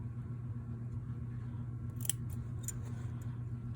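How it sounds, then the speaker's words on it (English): Scissors snip quilt fabric triangles in two quick, crisp cuts, faint and close against a steady low background hum, with no talking. "Maybe I could get away with snipping. That's what I'm going to do. I'm going to snip."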